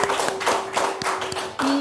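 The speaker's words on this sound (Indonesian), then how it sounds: "tepuk tangan teman-teman untuk Hasbi" Classmates clap for a fellow student in a classroom, a short burst of irregular hand claps with a steady tone humming underneath.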